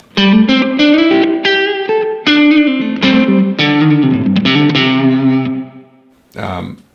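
An electric guitar through a Blackstar AMPED 2 amp plays a run of sustained notes washed in heavy reverb, each chord ringing out and trailing off into a spacious tail.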